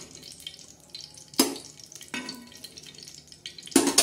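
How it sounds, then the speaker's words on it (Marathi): Oil heating on a tawa griddle before onions go in: a faint, low crackling sizzle broken by a few sharp clattering bursts of stirring or handling, close by and quiet. "तर हे बघा, आपण मस्त असं तेल टाकलेलं आहे आता तव्यावर।"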